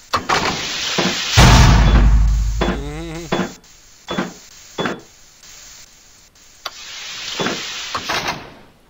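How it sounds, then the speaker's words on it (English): A door closing in the horror game SCP Containment Breach, heard as a loud heavy rumbling slide followed by a grinding mechanical rattle and thuds, with eerie ambient sounds around it. "Close that fucking door."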